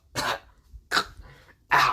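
Three harsh coughs, spaced roughly evenly and close, come from an anime character coughing up blood after smashing into trees, with a faint breathy rasp between them.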